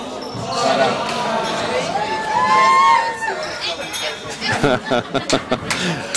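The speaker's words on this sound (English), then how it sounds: "The crowd here getting kind of crazy, kind of punch drunk." Spectators at a junior handball world championship finals, 23-and-under small-ball four-wall, chatter and cheer in an echoing court, with sharp ball bounces and slaps ringing out near the end.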